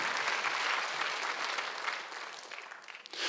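Congregation applauding during a Sunday church service, a steady wash of many hands clapping that thins slightly toward the end before swelling again.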